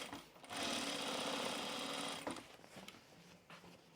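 A sewing machine runs in one steady burst hemming webbing, the presser foot half on the strap, then stops and is followed by quieter handling noises.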